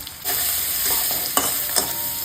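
Chicken pieces sizzle loudly with onion and garlic in a hot pan while a spatula stirs and scrapes through them, with two or three sharper scraping strokes over the constant frying hiss.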